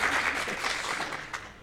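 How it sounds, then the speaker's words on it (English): A short burst of dense applause from a group, steady and fairly close, fading slightly at the end. "Round of applause."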